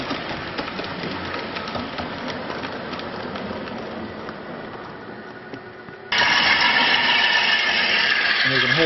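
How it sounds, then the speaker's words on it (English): The sound unit of a model railway locomotive runs on a DCC/DC automated layout, giving a steady mechanical engine drone that suddenly steps up louder and brighter partway through, with a voice at times. "I'll turn the sound on the locomotive so you can actually see a bit more of what's going on."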